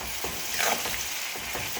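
Onions frying with salt in a pan, a steady close sizzle with faint stirring scrapes throughout.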